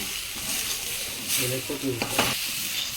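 Meal maker soy chunks fry on a high flame while being stirred constantly, producing a loud, continuous sizzle with a few sharp spatula scrapes against the pan and a faint voice in the background.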